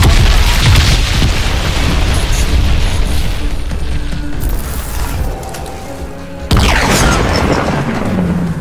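Weapons fire and explosions from the video game Crysis 3 make a continuous, loud barrage of booms and bursts. The roar dips briefly, then a fresh blast slams back in, with no speech over it.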